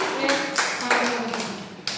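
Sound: children clapping hands

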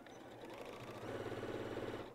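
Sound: sewing machine stitching

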